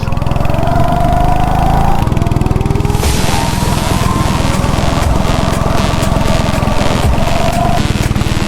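A small go-kart engine, mounted on the right side and hot from running, idles loud and close in a continuous rapid putter, with a few brief rattly surges over the steady beat.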